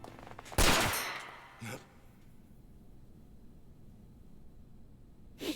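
Gunshot in the Yakuza 4 video game: one loud, sharp blast with a decaying tail, followed by a smaller thud and then quiet ambience, with another short burst at the very end.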